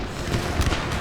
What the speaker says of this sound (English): Let's redirect our cannon fire over to here.